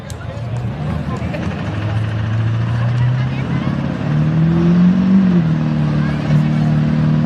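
A drag racing vehicle at a spring nationals meet revs its engine, rising in pitch through quick gear shifts with a sustained loud roar, while a voice talks over it.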